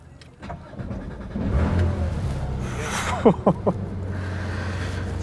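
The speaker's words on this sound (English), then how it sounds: "So on the left for the key, just push it in and crank it up." A Porsche GT3 RS engine cranks and catches with a rising roar, then settles into a deep idle broken by three sharp revs, close by with faint voices under it.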